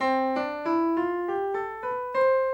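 A keyboard plays an ascending major scale, eight evenly spaced notes stepping upward one at a time, clear and alone.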